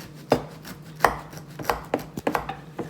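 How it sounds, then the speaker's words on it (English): Several sharp knife chops on pesto ingredients held in a measuring cup, irregularly spaced crisp thuds with a faint low hum behind them and no talking. "While it's in the measuring cup, I'm actually going to chop it a little bit."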